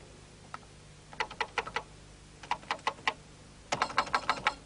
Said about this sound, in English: Now hold the Shift key down to type them.